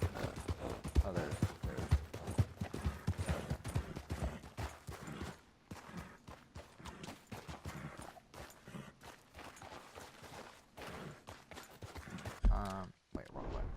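Horse hooves clip-clopping at a steady walking pace in the video game Red Dead Redemption 2, a rhythmic patter heard alongside a person talking intermittently, ending in a brief louder thump.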